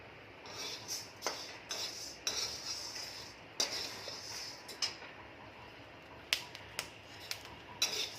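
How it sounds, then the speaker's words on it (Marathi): Sorghum grains are dry-roasted in a small batch for thalipeeth bhajani. A quiet, continuous rustle runs beneath repeated light clinks and scrapes of a spoon stirring in the pan. "आता मी ज्वारी भाजत आहे पण ज्वारी मी थोडी थोडी करून भाजणार आहे"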